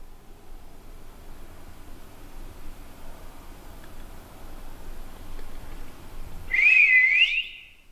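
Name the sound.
whistling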